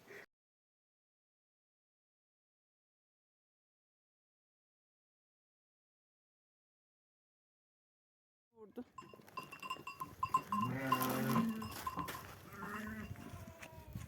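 Silence for several seconds, then sheep bleating breaks in near the end, loud and close, with repeated cries over farmyard rustle in a village.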